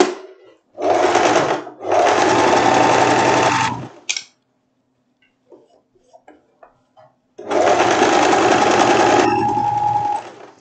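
A sewing machine topstitches bias binding on a wrap dress in two loud, sustained runs of rapid stitching, with quiet clicks and handling noises in the pause between them.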